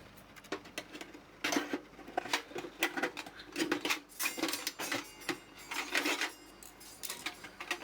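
A box of saved coins from Dubai is cut open, producing irregular bursts of close metallic clattering, scraping and jingling that come and go throughout.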